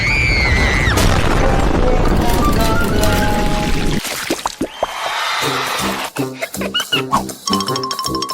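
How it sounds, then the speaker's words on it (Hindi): A cartoon earthquake effect: a loud, dense rumbling boom fills the opening seconds, then cuts off abruptly, giving way to lively animated voices talking with other light effects. "भूकंप!"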